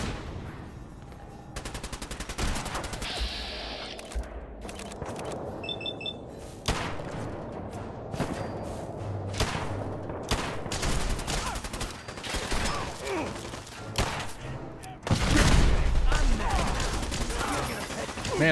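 Repeated gunfire bursts and rapid automatic fire in Fallout 4 Nuka World, dense and loud throughout a firefight, with a heavier roaring blast near the end.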